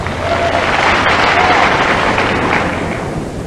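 A 1992 tennis exhibition crowd reacts to a serve, with a loud, broad swell of applause and excited murmuring that fills the whole moment at steady volume.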